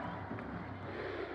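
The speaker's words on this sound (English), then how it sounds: "The fans cheer as the Knicks lead the basketball game" Basketball fans cheering at a 1991 Knicks home game against the Detroit Pistons, a broad steady arena crowd roar that holds without pause, heard from a distance.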